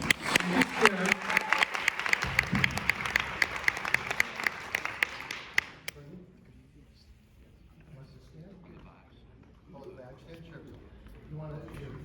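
Audience clapping at a youth jazz band's spring concert rings out for about six seconds, dense and lively, then stops abruptly, leaving quiet room noise and a few soft voices.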